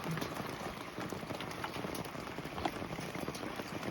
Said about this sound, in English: The sun is shining, but it's raining.